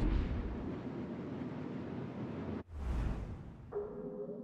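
A called-in artillery strike in a video game lands as a heavy rumbling blast, then a sharp cutoff and a second booming burst, with a lingering tone afterward, loud and without voices.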